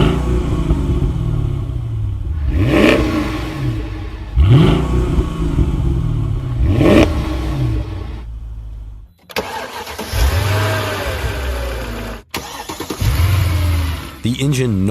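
Two Mercedes-AMG V8s, a supercharged M113K in a CLS55 and a naturally aspirated M156 in a CLS63, both with similar exhaust setups, rev hard in turn: sharp rising-and-falling blips up close, with a different engine starting and revving in later bursts.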